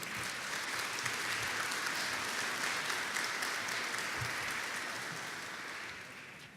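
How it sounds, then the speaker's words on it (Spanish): An audience at a book launch event applauds to welcome a speaker to the stage. The clapping is dense and sustained, like a full hall, and slowly tapers off near the end. "Vamos a recibir con un fuerte aplauso al licenciado Juan Daniel Balcácer."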